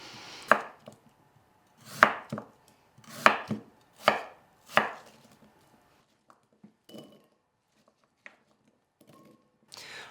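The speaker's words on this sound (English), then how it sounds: "now that we've cut the radish in cubes" A kitchen knife chops radish into cubes on a board for kimchi-style lacto-fermented recipes. Five or six sharp, close chops land about a second apart, then fade to a few scattered light taps.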